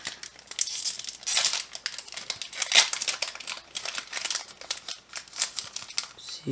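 Foil booster packs of trading cards from a tin box being torn open, giving a steady run of close, crisp crinkling and rustling with a few sharper rips.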